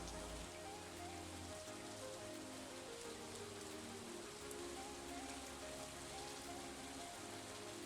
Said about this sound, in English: This is Summertime Green Rain.